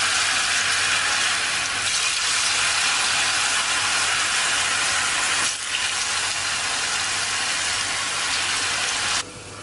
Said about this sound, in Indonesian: Kalau sudah dipotong-potong semuanya, kita akan goreng terlebih dahulu tahunya.